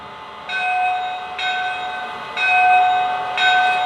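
Locomotive bell sound from a Mohawk L-2a model train, steady repeated clangs about once a second, each ringing with a bright metallic tone that lingers, loud and close with nothing else heard.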